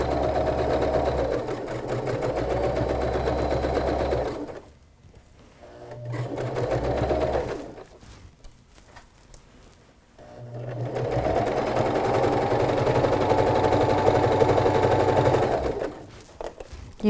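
A sewing machine stitches forward, reverses, then goes forward again on pillow fabric, giving three loud, steady whirring runs separated by short quiet pauses.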